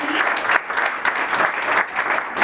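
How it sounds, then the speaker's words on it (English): An audience at a 2022 holiday social claps for its steering committee, a brief burst of lively applause from a modest crowd, rising and falling in small surges, fairly close and loud. "And everybody applause for them."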